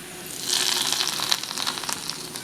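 Hot tempering poured into green peas curry, a loud, close burst of bubbling sizzle that rises quickly and crackles steadily with no voices.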